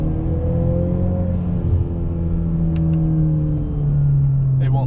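A 2017 Ford Fusion engine drones and rises in pitch while the driver downshifts with the paddle shifters, and the rumble stays loud and close inside the cabin.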